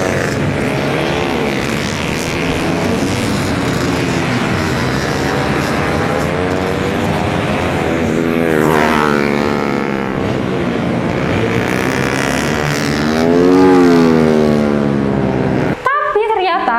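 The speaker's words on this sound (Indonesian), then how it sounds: "Setelah itu akhirnya bisa dicoba tuh motornya sama Bang Sogi." A Kawasaki Ninja R motorcycle rides laps on the Sentul karting circuit. Its engine is loud and close, with rising and falling revs and harmonics that sweep as it accelerates and brakes, and a second surge near the end.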